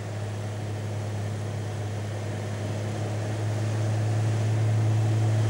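A PL12 agricultural aircraft with a 300 HP engine on landing approach, its propeller engine droning steadily and loudly from the cockpit with a strong low hum that rises slightly in pitch.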